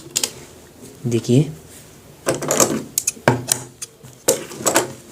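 A sewing machine stitches a trouser seam, with short mechanical whirring runs and clacks in uneven bursts, close by, while a person talks over and between them.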